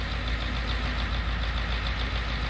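Farm tractor engine in the Farming Simulator 19 video game, running while reversing toward a chisel plough, a steady, dense mid-pitched drone that stays level throughout with no talk.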